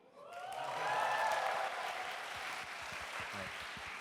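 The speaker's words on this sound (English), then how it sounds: "I heard a lot of applause, a lot of cheers for you." Audience at an alumni talk applauding and cheering, a swell of clapping with a few rising whoops early on, fairly faint and distant, tapering into lighter sustained applause.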